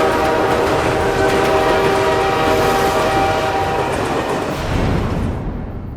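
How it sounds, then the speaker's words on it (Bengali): A train rumbles loudly nearby with a sustained horn tone over the rolling noise, fading slightly toward the end. "আরে ট্রেন আসছে যে, ট্রেন আসছে"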